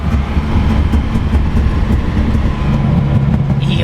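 A Datsun 240Z Fairlady Z S30 is heard on the move, its engine and exhaust giving a loud, rough, low rumble with road noise mixed in, sustained throughout.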